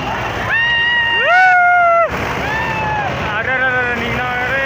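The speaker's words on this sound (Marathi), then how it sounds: "कारण 5 ट्रॅक्टर लावून ट्याली निघणं आली रानातली" Several tractors labour to haul a loaded sugarcane trolley out of a field, their engines droning in steady harmonic tones that climb and fall as they rev, with wind noise and people talking over the noise.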